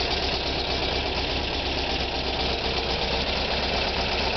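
A 1977 VW Westfalia engine with stock dual carburetors and a new canister muffler idles steadily and close, a constant even rumble with no talk.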